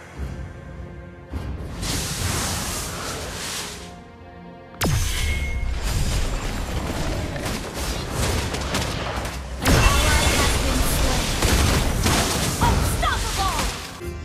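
An enemy team destroys a turret in a Mobile Legends match, with a burst of booming, crashing impacts and whooshing effects over dense game noise, loud and continuous, followed by further explosive clashes.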